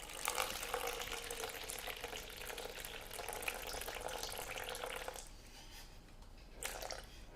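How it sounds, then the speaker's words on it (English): Tepid water poured from a large jug into a mixer bowl, a steady close splashing stream lasting several seconds, then a pause and a short final splash. "I want to put on 150 mils of tepid water."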